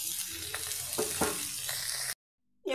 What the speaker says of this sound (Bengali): এবার আমি পেঁয়াজগুলো ভেজে নিচ্ছি